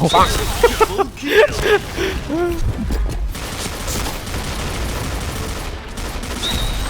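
Bursts of gunfire and grenade blasts in the online shooter Point Blank sound in rapid crackling volleys, with someone talking loudly over the fight throughout.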